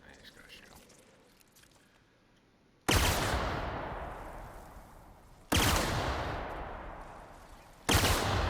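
Gunfire in The Outer Worlds video game: three sharp, loud shots several seconds apart, each blast decaying slowly into a long echo, as if fired inside a cavern.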